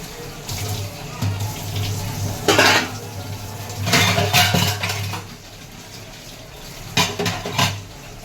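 Dishes are washed in a home kitchen sink, with irregular bursts of clattering pots, plates and cutlery over a steady background of running tap water.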